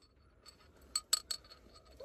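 A small Christmas bell ornament shatters, giving a few quick, faint glassy clinks and tinkles in a cluster in an otherwise quiet room.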